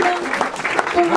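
Brief burst of applause from a gathered crowd at the launch event of a citizen local currency in the Lyon region, clapping steady and fairly close with voices mixed in.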